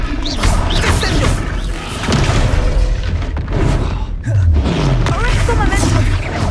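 A Descendo spell slams down in Hogwarts Legacy, producing repeated heavy booming impacts and crashes mixed with whooshing magic effects, loud and dense, with shouted voices over the combat.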